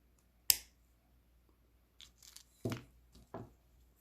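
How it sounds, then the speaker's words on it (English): Jewelry wire is snipped with a single sharp, close cutter click, followed by a few quieter clicks and handling rustles against a silent background. "Now I'm going to snip this about, I'd say 8 millimeters long."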